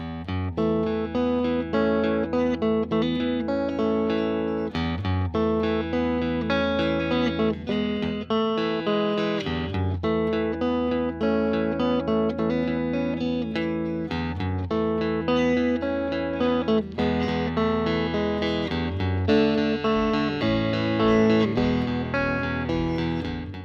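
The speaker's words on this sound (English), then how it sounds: "And on to some clean tones on the neck position." A Fender Vintera 50s Telecaster Modified on its neck pickup plays clean, round notes and chords in a steady, melodic run at an even volume, with no talking.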